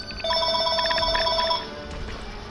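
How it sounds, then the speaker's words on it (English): A telephone bell rings in rapid repeated trills inside a Mortal Kombat video game, loud for over a second before stopping over a faint background. "The telephone is ringing."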